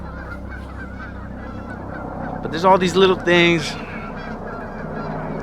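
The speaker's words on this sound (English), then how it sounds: "The geese are going crazy." Geese honk loudly in a short burst of overlapping calls, with someone speaking before and after the honking.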